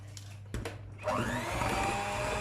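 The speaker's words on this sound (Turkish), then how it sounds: "şöyle mikserimle çırpacağım" Electric hand mixer whipping cake batter of oil, yogurt and flour for a chocolate-chip blackberry cake, starting with a sharp click after short bursts, then running as a steady, close whirring drone to the end.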